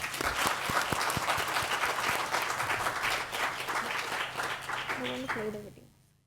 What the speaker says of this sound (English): Please join me from across continents in extending a heartfelt and resounding round of applause for Dr. Professor Stefan Lorenz Sorgner